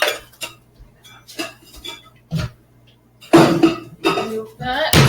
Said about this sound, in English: Just need to get a pan here.